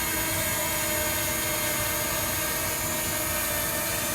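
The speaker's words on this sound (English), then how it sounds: "Maybe I can show the drone stability a little bit more." A DJI Mini 2 SE drone hovers near a construction site on a breezy day, its propellers giving a steady, close, high-pitched buzzing whine with tonal harmonics that holds constant throughout with no talk.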